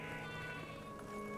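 Sheep bleat in the video game Craftopia, a steady bleating held over a low, constant game background for about a second and a half.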